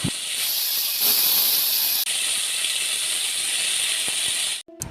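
Bitter gourd pieces dropped into smoking hot oil give a loud, sustained hissing sizzle that runs almost unbroken for several seconds, then cuts off abruptly.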